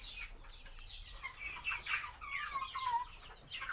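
A broody hen, kurk tavuk, clucks in a low, continuous run of throaty murmurs and grumbles, close by and fairly soft, with no talking over it.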